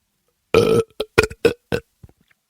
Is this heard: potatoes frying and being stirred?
no